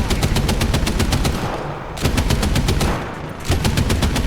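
Staghound AA armored car's anti-aircraft machine guns in War Thunder fire in long rapid bursts, loud and close, with two brief pauses between volleys and no talking.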